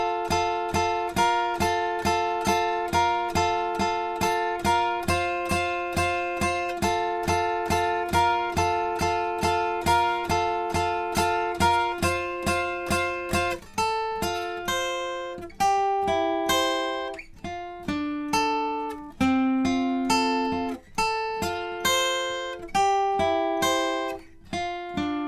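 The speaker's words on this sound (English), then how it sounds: "And in total, our full solo will sound like this." Guitar plays the complete solo from a song without a capo, steady plucked notes at first, then a looser, more varied melodic run with longer held bends, clear and solo with no accompaniment.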